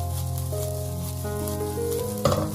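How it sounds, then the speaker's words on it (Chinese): Cooked rice stir-fried in a wok over low heat, with a soft continuous sizzle and light scraping of the spatula, ending in a slightly louder clatter of tossing. "把米饭先给它翻炒一下，这一步非常的重要，要把成坨的米饭炒散"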